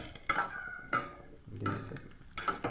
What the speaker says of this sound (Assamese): মাংসখিনি মই লৰাই দিছোঁ